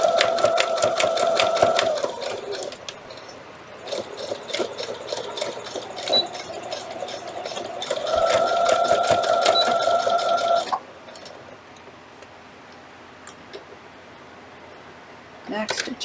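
A Brother sewing machine stitches a fabric seam in rapid, even bursts, running close and steady for a few seconds at a time with short pauses between runs.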